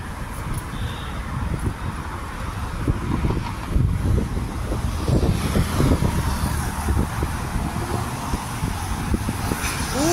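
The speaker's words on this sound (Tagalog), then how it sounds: "Hangin. Ang klima ngayon." Steady wind rushes and buffets a microphone outdoors, with low rumbling gusts throughout and no voices.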